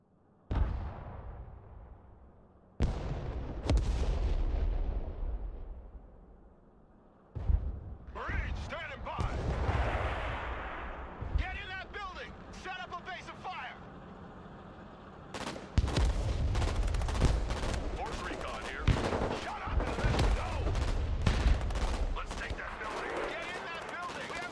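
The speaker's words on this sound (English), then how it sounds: "artillery is just everywhere" Artillery barrages and rattling gunfire from the modern real-time strategy game Broken Arrow, with heavy booming blasts and dense bursts of shots, loud and near, continuing under intermittent radio-style voices.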